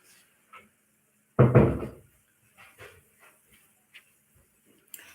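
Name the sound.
door being closed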